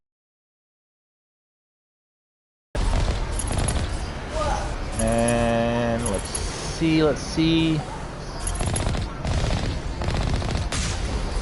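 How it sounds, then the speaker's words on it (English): Rapid gunfire from turrets and cannon shots in a PS4 video game, starting after a few seconds of silence as a dense, continuous barrage, with someone briefly talking over it. "You take out these turrets, trying to avoid the bullet, they're shooting at me."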